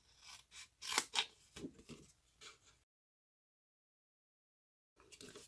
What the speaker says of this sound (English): We're going to cut up all our score lines.